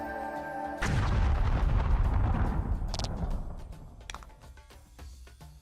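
A force impact attack in Voice of Cards erupts abruptly after a quiet moment, a loud heavy explosion whose rumble slowly decays over several seconds, with sharp crackling hits and pops scattered through the tail.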